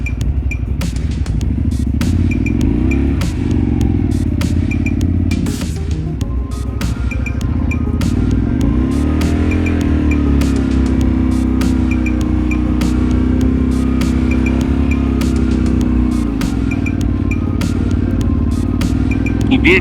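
A Honda Varadero 125 motorcycle starts up on a steep incline and pulls away. Its engine thrums loud and close with rattling clatter, rising in a revving sweep partway through before settling back into a steady drone.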